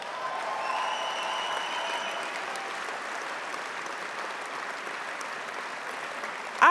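A party conference audience at the 2018 Bundesparteitag applauds a speech with a dense, steady wash of many hands clapping, sustained at even loudness for several seconds before an abrupt louder knock at the end.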